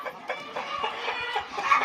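Flock of backyard chickens clucking continuously close by, a busy mix of overlapping clucks with occasional louder calls.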